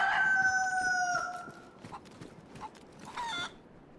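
A rooster crows in the survival game DayZ: one clear, loud cock-a-doodle-doo at the start, followed by a few short, fainter clucks and calls, with no talking.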